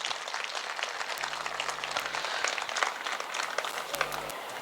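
Audience applause at a school's annual day celebration (DAV 15th Annual Day, Gyan Jyoti Mahotsav), a dense, steady wash of many hands clapping throughout, with faint background hum.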